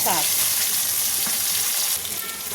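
Chopped onion frying in hot oil for an ilish fish-head kochu shak dish, a steady dense sizzle close to the pan, with brief stirring scrapes and a slight drop in level near the end; no talking.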